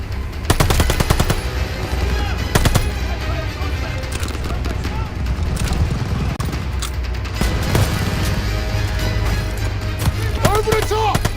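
Call of Duty Vanguard gameplay with loud machine gun bursts and scattered single gunshots in a combat scene, erratic and overlapping, with shouted voices throughout.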